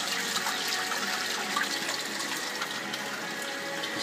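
Water flushes down an aquaponics drain pipe beneath a grow bed topped with duckweed, a steady splashing, gurgling rush that is close and fairly loud and carries on throughout without talk.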